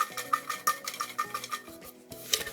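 Paper prize-draw tickets shaken and stirred inside a hard container, a run of rhythmic rattling, clinking knocks up close, then a brief pause before a final jolt.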